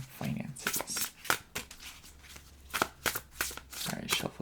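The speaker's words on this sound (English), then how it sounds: "Alright, shuffled it 5 times." A tarot deck is shuffled by hand in a run of quick papery riffles and soft slaps, close and fairly quiet, repeating in uneven bursts.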